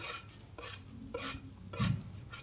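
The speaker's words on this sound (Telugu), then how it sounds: "ఇవి మొత్తం అన్నీ వేసి బాగా మిక్స్ చేయాలి" Chicken pakora mix gets worked together by hand in a bowl, with chicken, sliced green chili, coriander, mint and curry leaves. Soft, wet squishing comes in repeated bursts roughly every half second, close by and fairly quiet.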